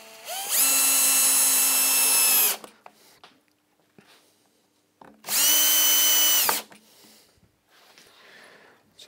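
A power drill drives a screw into the wooden frame of a mission-style clock in two loud, sustained whirring bursts of about two seconds each, separated by quiet workshop pauses.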